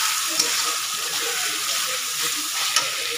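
Chicken khichdi tipped into a pan of oil-fried masala, giving a loud, dense, steady sizzle with a couple of faint clinks from a utensil, close up and continuous.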